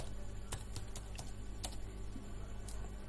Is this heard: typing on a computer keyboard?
yes